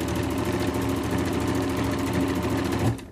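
A domestic sewing machine stitches a seam joining patchwork fabric pieces for a cushion cover, giving a steady, fast, close whirring run that stops abruptly just before the end.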